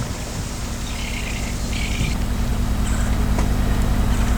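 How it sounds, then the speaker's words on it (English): Motorboats arriving at Boca Chita Key hum with a steady low drone that swells slightly as they draw nearer, with faint birds chirping in the background. "these two boats came to the island"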